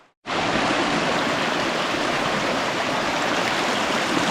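The Tkhab, a mountain river, rushes loudly and steadily after a brief quiet start, a dense close wash of churning water with no voices.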